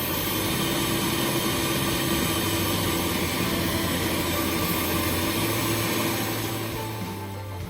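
Homemade mini motorjet engine, built without power tools, running steadily with a loud continuous roar and broadband hiss plus a low droning tone, tapering slightly at the end, with no talking.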